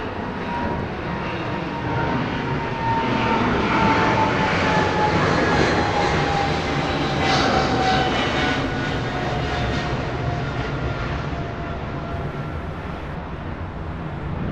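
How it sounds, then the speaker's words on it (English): Twin-engine airliner climbing away at full throttle during a go-around at Heathrow, a loud sustained jet roar overhead that holds steady and fades slightly at the end. "Two big engines at full throttle, clearing the airfield."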